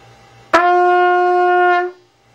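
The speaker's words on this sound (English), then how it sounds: "With a kind of a stuffy sound. That's playing on top of the pitch." A single sustained trumpet note, overblown and sharp on top of the pitch, with a thick, stuffy tone, starting abruptly and holding steady for over a second before cutting off.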